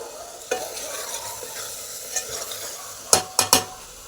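Masala frying in oil with turmeric and salt, a low steady sizzle under occasional stirring, ending in three sharp spoon clinks against the pan.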